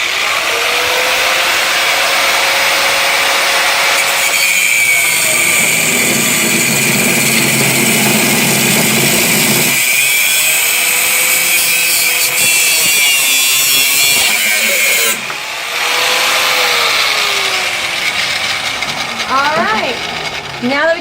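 A power saw blade cuts through metal for homemade barn door hardware, a loud, harsh, continuous grinding whine that shifts character in several long passes, with brief breaks between cuts.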